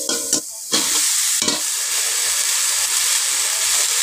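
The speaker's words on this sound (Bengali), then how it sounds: "একটু নেড়ে চেড়ে নেব।" Slit green chillies and chopped onion hit hot oil with cumin seeds in a pan, bursting into a loud, close, hissing sizzle after a couple of sharp stirring scrapes, then frying steadily.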